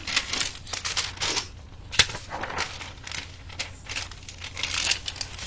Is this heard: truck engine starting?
no